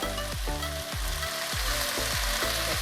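Bell peppers for vegan soy curl fajitas fry in a pan with a steady, close sizzle. A lower, rhythmic tonal hum repeats underneath throughout the few seconds.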